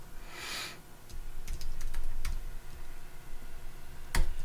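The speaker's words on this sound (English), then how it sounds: "So notice as I'm typing" Light typing on a computer keyboard comes as sparse, soft clicks and taps, close and quiet against faint room noise, with one sharper tap near the end.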